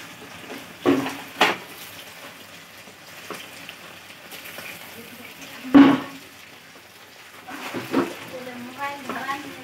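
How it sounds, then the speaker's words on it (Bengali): Potato and pointed gourd pieces fry softly in a pan as a spatula turns them, with a few sharp metal scrapes and clanks over a low sizzle. Someone talks throughout. "এবারে আমি এগুলোকে একটু উল্টে দেখবো আলুটা ভাজা হলো কিনা, পটলটা ভাজা হলো কিনা ঠিক মতন।"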